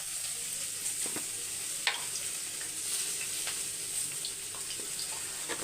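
Ghee sizzles in a pan while being stirred, a soft, continuous crackling hiss with a few light scraping clicks, heard quietly and alone.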